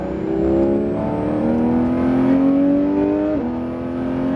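Porsche GT3 RS on the La Ferté-Gaucher circuit, its engine note climbing steadily as it accelerates out of a corner, loud and close, with a brief dip near the end before pulling on.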